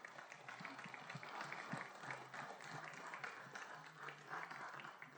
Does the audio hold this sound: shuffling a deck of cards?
no